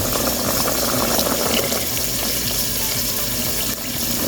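A tap runs steadily into a sink while peas are washed for rice and peas, a loud, close, continuous gush of water with no talking.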